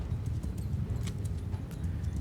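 Cavalry horse hooves in the medieval battle game Mount & Blade II Bannerlord, a dense rumbling clatter of many hoofbeats running steadily under low battle noise, with no clear talking.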